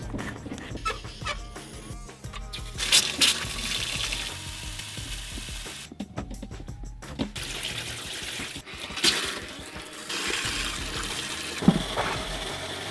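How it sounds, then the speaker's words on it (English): Steady rushing and spraying water runs throughout as a hose flushes an RV's freshwater system, with occasional clanks and brief pauses in the flow. "we need to flush it with fresh water"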